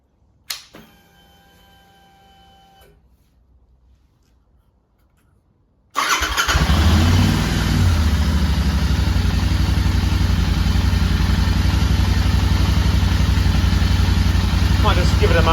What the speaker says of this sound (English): I'm going to give the bike a little start up before I put it all back on and have a look at the idle